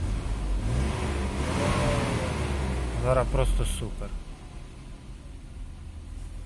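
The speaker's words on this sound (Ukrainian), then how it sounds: "Виходить на холостий хід. Моторчик робить дуже рівно." A Mercedes W124 with a 2.6-litre M103 engine, fitted with a potentiometer emulator, revs up and gradually drops back to a steady, even idle while someone speaks over it.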